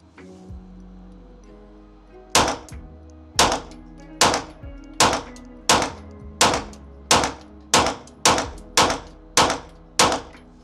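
A Daniel Defense H9 pistol firing at a distant target, a steady series of about a dozen sharp, loud shots spaced roughly a second apart, each ringing briefly, with no talk between them.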